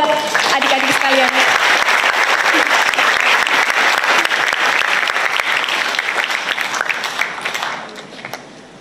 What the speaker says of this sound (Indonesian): Tepuk tangan buat adik-adik sekalian